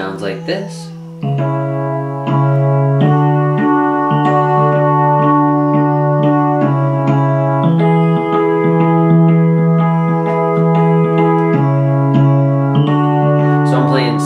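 Piano playing a phrase from a song, alternating two-note chords in a slow, steady rhythm, clear and close with sustained tones and no talking.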